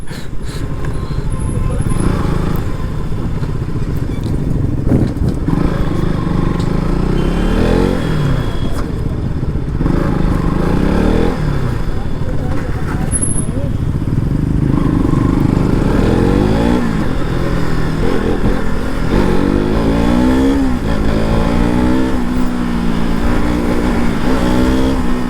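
A KTM motorcycle engine revs and drones steadily while being ridden through traffic, loud and continuous with rising and falling pitch throughout, no talk over it.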